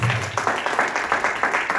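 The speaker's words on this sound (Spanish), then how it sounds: "Denle un aplauso fuerte a Jesucristo." A church congregation applauds with fast, rhythmic clapping that sounds roomy and sustained.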